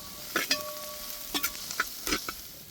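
Onions and tomatoes sautéing for a Kerala-style mutton coconut fry, a quiet steady sizzle punctuated by repeated scraping stirs of a spoon against the pan, close up.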